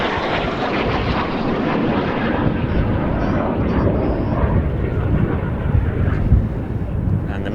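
Frecce Tricolori aerobatic jets perform at an airshow with a solo display, producing a loud, continuous broadband jet roar that swells slightly toward the end, with a commentator's voice faintly mixed in.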